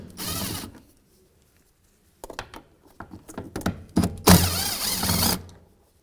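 A ratchet backs out 10mm bolts on the driver-side mirror of a 2015-2019 Hyundai Sonata, with short bursts of rapid clicking close up separated by quiet gaps and light knocks as the tool is repositioned.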